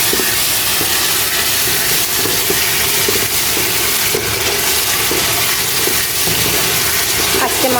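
Ground spice paste fries with chopped onions for a fish curry, making a loud, dense, steady hiss close to the pan that holds unbroken for nearly eight seconds.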